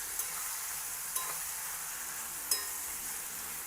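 Grated raw mango stirred in a hot pan on the stove: a steady, close frying sizzle that runs throughout, broken by a few faint clinks of the spoon against the pan.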